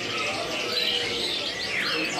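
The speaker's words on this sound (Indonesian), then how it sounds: "ini untuk stok burung kenari gacorannya teman-teman" Canaries sing at a kiosk in a busy bird market, a dense layer of bright chirps and warbling trills running continuously over crowd murmur.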